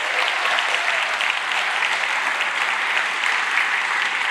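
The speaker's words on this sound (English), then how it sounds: "Let's give him a big round of applause." Audience applause at a high school band concert, honouring a pianist joining the band; steady, dense clapping from a large crowd, loud and sustained throughout with no break.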